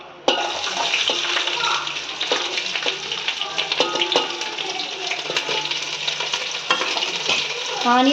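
Onions frying in a pan for mushroom biryani, with steady sizzling and scraping stirs throughout and a loud clack at the start.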